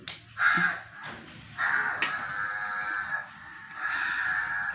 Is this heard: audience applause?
no